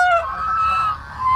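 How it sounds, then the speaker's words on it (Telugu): Farm ducks kept as guard birds give a sustained nasal honking call, loud and close, running continuously with no speech. "ఇవి ఖజానా బాతులు."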